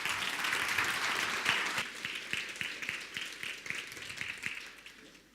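An audience at an adult education forum claps steadily to welcome a speaker on stage, a dense roomful of applause that thins into separate claps as it fades.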